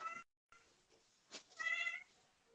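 A pet cat meows indoors, a few faint, close cries with a short pause between them and no talking.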